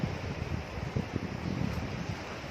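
Steady wind blows at a large Buddhist temple in Pathum Thani, a constant rushing, buffeting noise with low gusty rumbles against the microphone and no talking.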